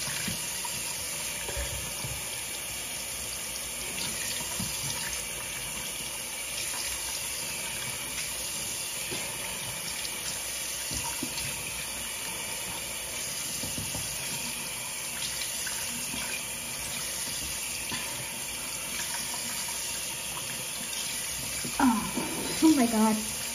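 A bathroom sink faucet runs steadily while someone rinses soap off their face, a continuous hiss with occasional splashes, close by and partly under background music and talk.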